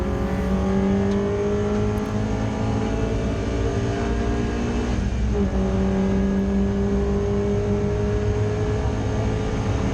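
A Ford Puma race car at Oulton Park in a BRSCC Clubsport Trophy race roars steadily past on track at full throttle, its loud engine drone holding a sustained pitch with a brief Doppler dip midway.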